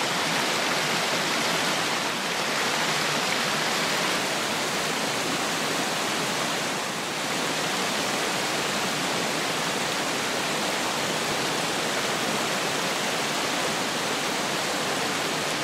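Forest creek water flowing in a steady, broad rushing wash, close and continuous without pause for the whole stretch.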